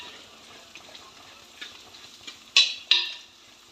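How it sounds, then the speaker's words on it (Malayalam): Spicy mango pickle pieces frying in oil while being stirred, giving a soft low sizzle with light scraping and two sharp utensil clicks near the end. "അപ്പോൾ നല്ലപോലെ ഒരു ബ്രൗൺ ഷെയ്ഡ് ആവുന്നവരെ നല്ലപോലെ ഇളക്കി കൊടുക്കാം."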